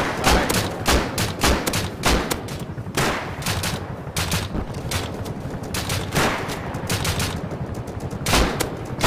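Loud, repeated gunfire in the survival game Rust, with sharp single shots and quick bursts coming in an uneven rhythm throughout and no voices over it.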